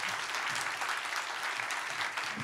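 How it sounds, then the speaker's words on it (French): A studio audience applauds a perfume creator, steady, dense clapping from many hands filling the whole stretch. "Vous pouvez l'applaudir."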